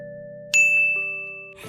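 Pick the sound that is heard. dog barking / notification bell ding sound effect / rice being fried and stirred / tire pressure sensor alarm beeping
notification bell ding sound effect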